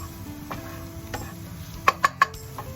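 Onions frying in a pan until brown give a soft, continuous sizzle, with three sharp clinks of a utensil against the pan near the end.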